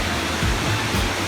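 Rushing water of a waterfall in Austria, a steady broadband roar with strong current, close and continuous throughout.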